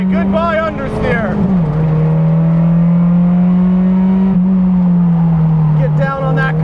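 A 2017 Mazda MX5 Cup race car lapping a track, the engine close and loud in a steady high-rev drone with quick pitch swoops from gear changes at the start and end, a voice speaking briefly over it.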